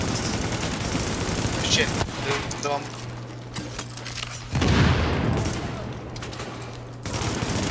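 Automatic gunfire bursts from the video game Tom Clancy's The Division, rattling repeatedly across the clip with a heavier blast midway, while players talk over the shooting.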